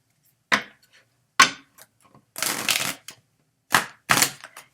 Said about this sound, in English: these cards don't want to shuffle anymore